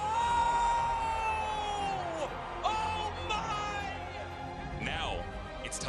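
At a Memphis 901 FC versus Louisville City FC soccer match, a large stadium crowd roars and whoops in a loud, sustained wall of noise. A commentator's voice rides over the top.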